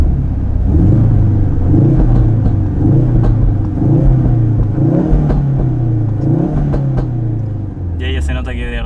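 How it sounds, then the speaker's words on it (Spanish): A Ford Focus RS in sport mode revs close by, its exhaust booming in repeated rising and falling surges through the whole stretch, with a person speaking briefly at the end. "Y ahí ya se nota que de verdad se liberó totalmente el escape"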